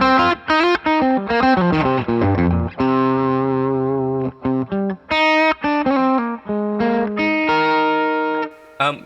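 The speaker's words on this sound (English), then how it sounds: "So this is our lead amp. And what's really cool to me, it's got that kind of like bloomy sizzle." Electric guitar lead runs through a Two-Rock Bloomfield amp plugin on its lead channel, giving a loud, distorted, sizzling tone with bright upper harmonics as quick melodic notes and sustained bends ring out alone.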